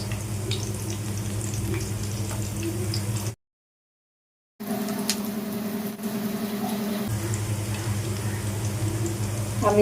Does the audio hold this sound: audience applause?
no